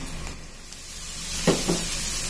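Ground meat hits a hot pan of sautéed onions and garlic for Filipino Jolly spaghetti sauce, giving a steady close sizzle with a couple of brief louder crackles as it settles.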